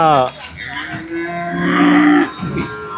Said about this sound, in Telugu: ఇది కూడా సుడి గేదెనే